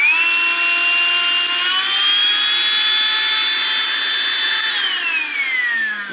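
A small rechargeable handheld vacuum for home and car runs steadily and loud throughout, a whining motor hum whose pitch rises slightly partway through and drops near the end as the power setting changes.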